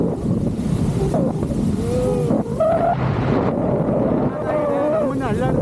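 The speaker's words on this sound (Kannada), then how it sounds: "ನಮ್ಮನ್ನ ಅಳ್ಳಾಡ್ತದೆ ಗಾಳಿ ನೋಡಿ." Strong wind at a viewpoint in Goa buffets the microphone with a heavy, continuous low rumble, while voices and other sounds rise faintly through it.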